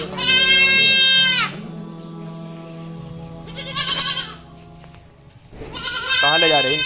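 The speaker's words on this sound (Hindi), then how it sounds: "देखो यहाँ को बकरी" Goats bleating nearby, several loud wavering cries at the start, middle and end, with someone talking in the quieter stretches between them.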